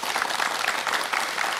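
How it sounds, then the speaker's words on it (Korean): A studio audience claps on a morning TV lecture set, a dense, even wash of applause that holds steady and close for a short burst. "다시 한번 박수 보내드리겠습니다"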